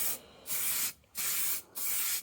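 Three short bursts from a can of Halfords plastic filler primer being sprayed onto a 1994 Jaguar XJS V12 facelift spoiler undertray, close hissing separated by brief pauses, no voices.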